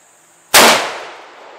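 A single loud, sharp gunshot from a Ruger rifle cracks out at a red gas tank target about 40 yards away, then decays quickly into a short outdoor echo.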